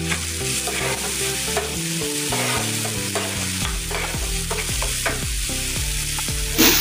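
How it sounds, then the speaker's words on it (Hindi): Masala for dahi baingan is stirred and fried in a pan, giving a loud continuous sizzle with repeated stirring scrapes, under background music and without talk. "दो 3 मिनट ऐसे इसको चलाते रहेंगे"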